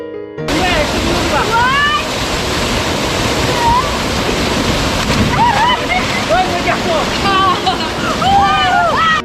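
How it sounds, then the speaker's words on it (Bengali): Rupali waterfall in Bandarban, a broad but not very tall cascade, roars loud and steady throughout, with birds chirping over the rushing water. "ঝর্ণাটি লম্বায় এত বড় না হলেও প্রশস্ত ঝর্ণা"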